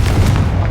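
A Confringo fire-blast spell explodes in the Hogwarts Legacy video game, a loud, continuous low boom rumbling for under a second with no talk over it.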